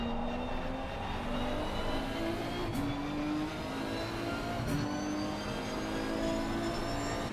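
A GT3 race car at Oulton Park blips through a downshift and then pulls hard back onto the throttle, its engine note dropping and climbing again in a steady, loud drone with shifting pitch.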